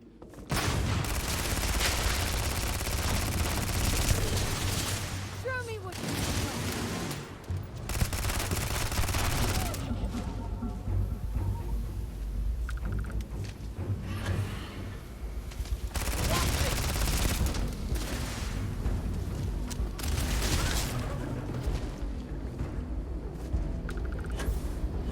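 Weapon fire in the video game Starfield rattles out in dense, sustained bursts with brief pauses between volleys, loud and near across the whole stretch.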